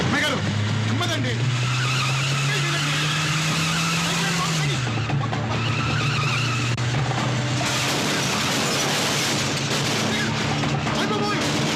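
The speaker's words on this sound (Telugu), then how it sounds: "నేను కారు తోలుతా" A car driven erratically, with loud, prolonged tire screeching and skidding, a long squeal that shifts pitch partway through, while people talk and shout over it.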